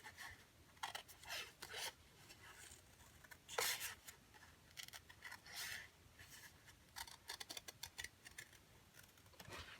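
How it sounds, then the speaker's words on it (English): Big scissors snipping through fabric scraps at close range, never fully closing, in a quiet room; irregular crisp cutting strokes come in short bursts and clusters, with soft rustling between them and no talking. "I'm using big scissors, but I don't ever totally close the scissors"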